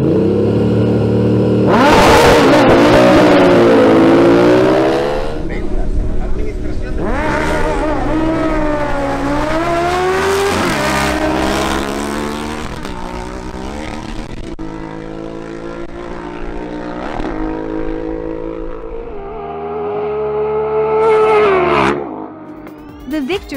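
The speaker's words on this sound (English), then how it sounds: "Next up, we have the face-off between Christian Alcala's Suzuki GSX-S750 and Ruben Torres' Ducati Multistrada." Suzuki GSX-S750 and Ducati Multistrada motorcycles at a drag race, engines revving hard with rising and falling gear-change sweeps, loud and continuous, with a commentator talking over part of the run.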